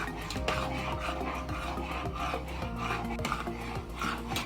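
Sorghum or ragi porridge (koozh) stirred steadily in a pot, repeated close scraping and rubbing strokes of a spoon against the pot in a continuous rhythm, with no talking.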